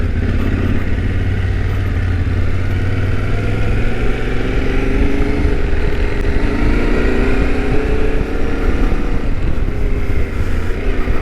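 A Yamaha Tenere T7 adventure motorcycle rides along, its engine a loud, continuous drone with slowly shifting pitch, mixed with heavy wind noise.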